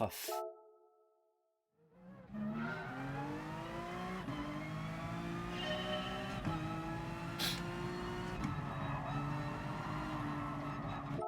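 A Honda NSX race car in Gran Turismo Sport revs hard after a short quiet gap, its engine note climbing and dropping through repeated gear changes. The sound is steady and fairly faint, with a brief higher burst partway through.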